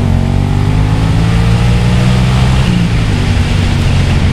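Motorcycle engine held at full throttle in second gear while climbing a very steep mountain pass road, giving a loud, continuous droning roar with steady pitch and heavy wind noise.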